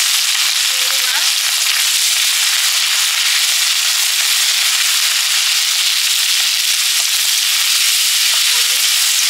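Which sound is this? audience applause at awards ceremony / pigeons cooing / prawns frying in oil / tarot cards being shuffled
prawns frying in oil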